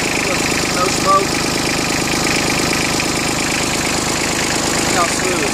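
A Yanmar F155D compact diesel tractor idles close by with a steady, even chugging drone and fine regular pulsing, no rattle standing out.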